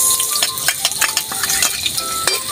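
Garlic and onion sautéing in a pan for pineapple pork ribs, a busy crackling sizzle with sharp clinks of a utensil stirring against the pan, fairly close and steady.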